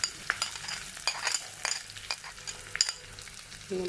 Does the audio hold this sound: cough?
no